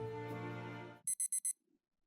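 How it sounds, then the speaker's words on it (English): A phone alarm sounds as four quick, bright beeps in a row, loud and close, right after a sustained tonal sound cuts off, then silence. "Your hand fumbles for the phone until you can finally flick off the alarm."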